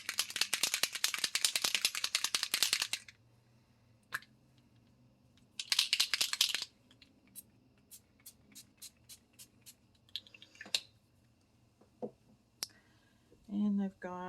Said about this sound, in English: Give that a good shake.